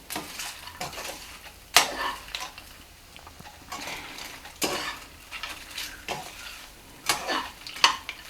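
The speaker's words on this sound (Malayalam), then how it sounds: "എന്നിട്ട് പപ്പടവും കൂടി ചേർത്തിട്ട് പതുക്കെ ഇങ്ങനെ ഇളക്കിയെടുക്കുക" A spoon works gently through a thoran stir-fry with papadam in a pan, making soft scraping, clinking strokes at an uneven pace, with a few sharper knocks against the pan and a faint sizzle beneath.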